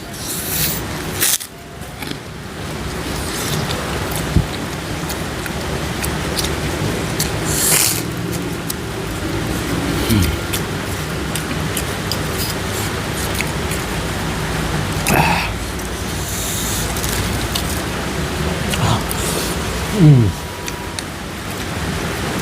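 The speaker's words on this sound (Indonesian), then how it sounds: "Ini hujan terus." Steady, continuous rain pours down throughout, a dense broadband hiss with a few brief knocks and rustles nearby.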